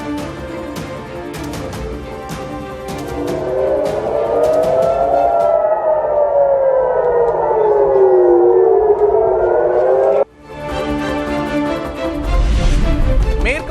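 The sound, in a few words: civil defense air raid sirens in Israeli cities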